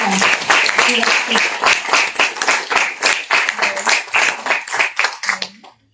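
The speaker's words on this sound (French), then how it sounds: "on peut vous applaudir encore" An audience claps loudly for a prize winner at a francophone writing awards ceremony, rhythmic close hand claps that fade out over the final second.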